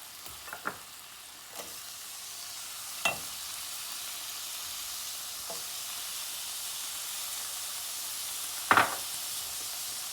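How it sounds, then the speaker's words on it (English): Garlic and onions sizzling in a lightly oiled pan, making a faint, steady frying hiss. Occasional sharp clinks and scrapes of a utensil stir through it. "So garlic is in. I'm going to add my onions."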